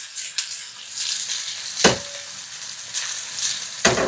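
Sliced onion sizzles loudly in hot oil in a pan, a close, steady frying hiss with sharp crackling bursts as pieces hit the oil.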